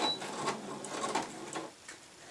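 A sewing machine back tacks with a small stitch across the end of cushion cover fabric, a quiet close rapid ticking and whirring that stops and starts in short bursts.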